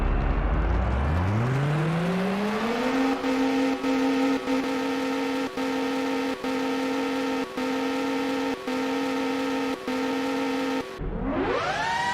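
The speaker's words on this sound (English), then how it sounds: "the Lizard Hijack sounds like a 900 horsepower tuned muscle car" The Lizard Hijack car engine in the Rage Racer video game, voiced like a tuned 900-horsepower muscle car, revs up from a low rumble to a steady loud drone with periodic shift blips, then cuts out and starts rising again.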